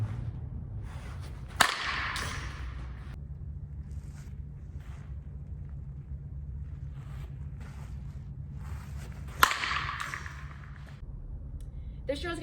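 Softball bat swung during slap-hitting drills, two sharp, quick whooshes several seconds apart over low outdoor background noise, with a person talking between swings.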